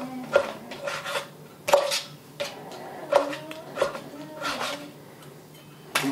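A knife slices beef tenderloin into strips on a cutting board, giving about seven distinct, separate knocks and taps at an uneven pace in a quiet kitchen.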